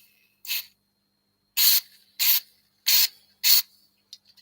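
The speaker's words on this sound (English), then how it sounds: "I'm going to try and get down in there with the spray." Oil-type lubricant sprayed from an aerosol can into a small gap on a Harley Benton ST-62 Deep guitar, heard as five short, close hissing bursts with silence between them, followed by a few faint clicks.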